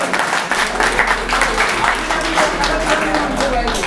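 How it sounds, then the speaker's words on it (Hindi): Loud, dense applause from an audience at an award ceremony for senior wrestlers in Malegaon, continuous clapping lasting about four seconds with a low hum beneath and some crowd noise mixed in. "मंसूर साहब के लिए ज़ोरदार तालियां हो जाए।"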